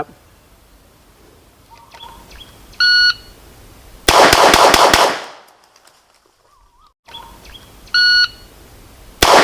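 A shot timer beep starts a string of five rapid shots from a CZ Scorpion Evo3 at a range, loud and close with ringing echo, followed by quiet and further timer beeps.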